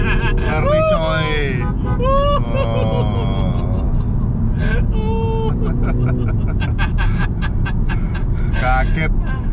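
A Mini Cooper S Countryman accelerating in the middle lane of dense traffic, its engine and road noise a loud, steady roar inside the cabin, with excited voices talking and exclaiming over it throughout.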